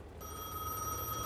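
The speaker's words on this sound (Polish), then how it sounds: "Dobra, idziemy odebrać ten telefon." Telephone ringing in the video game Gas Station Simulator, a steady electronic bell tone that sounds continuously and fairly loud, with no voices over it.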